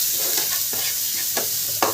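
Onion, garlic and chilli fry in hot oil with a steady, close sizzle, while a few scraping stirs mark the pan throughout.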